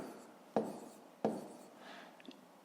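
A pen scratches on paper while a fifth-grade decimal math exercise is worked out. Two sharp taps land on the page, followed by softer scribbling strokes. The sound is quiet and close, with no talking.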